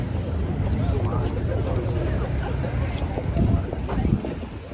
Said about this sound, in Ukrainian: Боже, який вітер віє.